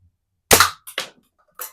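A vintage Daisy 499B BB gun fires at a target, a sharp close crack followed by two quicker metallic snaps and a later faint tick, in otherwise silent surroundings.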